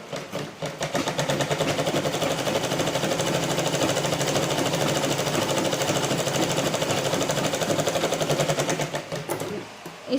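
A sewing machine stitches a hook strip onto a blouse, running steadily at close range with a fast, even mechanical chatter that starts up, holds for several seconds and slows to a stop.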